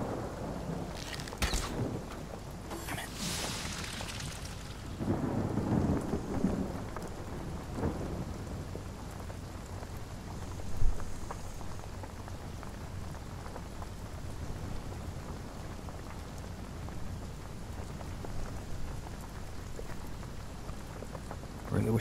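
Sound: rain and thunder from a rain spell in Divinity: Original Sin video game

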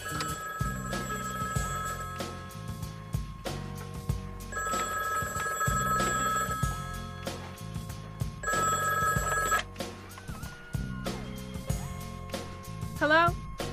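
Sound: telephone ringing

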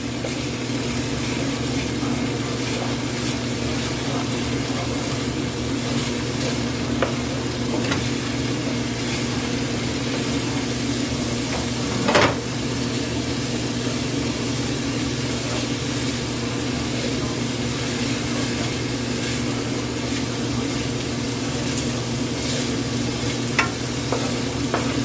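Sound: garlic frying and being stirred in a pan

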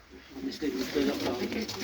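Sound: pet birds, likely pigeons, in a coop

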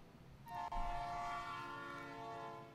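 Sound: train sound effects

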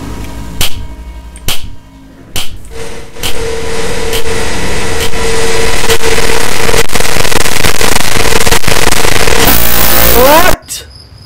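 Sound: rocket firework in the video game Baldi's Basics mod

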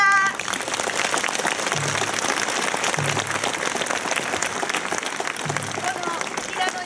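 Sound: applause after a taiko performance

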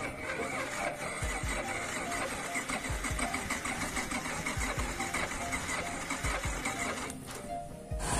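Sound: motorbike engine starting attempt with weak battery

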